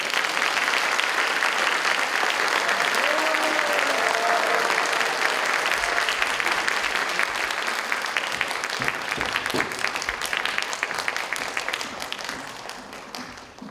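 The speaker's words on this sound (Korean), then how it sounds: "그럼 큰 박수 부탁드립니다." A lecture audience at Mokpo National University breaks into loud, sustained applause from many hands. The dense clapping holds for over ten seconds, then thins and fades toward the end.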